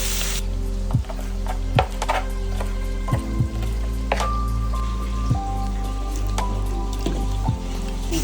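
Crushed ginger and garlic frying with tomato in a pan, giving a steady, close sizzling crackle throughout, with occasional sharp clinks and scrapes of a utensil against the pan.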